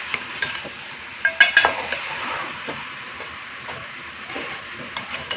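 Cauliflower and potatoes sautéing for aloo gobi in a pan: a soft continuous sizzle with scattered clinks and scrapes of a stirring utensil against the pan, close and fairly quiet.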